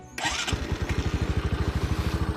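A Bajaj Boxer 150X motorcycle engine starts up, then settles into a loud, close, steady idle, its exhaust pulsing in a quick, even rhythm with no voices.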